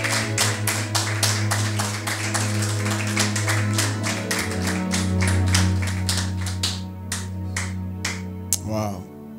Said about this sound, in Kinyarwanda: Reka dukomere mu amashyi bwa Pastor Mutunzi